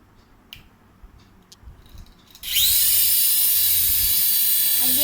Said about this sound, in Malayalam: പിന്നെയാണ് നമ്മുടെ മെയിൻ സാധനം, ഹെലികോപ്റ്റർ. നമുക്ക് ഓണാക്കി നോക്കാം.